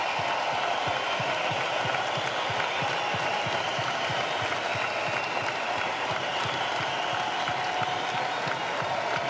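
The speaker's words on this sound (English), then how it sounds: "I'd like all of you to join me in an applause for a great man and a life well lived" Sustained applause from a large audience honouring the late NBA reporter Craig Sager, a steady dense wash of clapping that holds evenly loud for the full stretch with no break.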